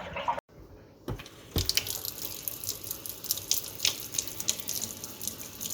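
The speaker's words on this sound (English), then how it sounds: "open up one of the faucets for the hot water" A hot water faucet fed by an electric water heater turns on after a brief silence, then water runs and splashes steadily with some sputtering and dripping, close and moderately loud.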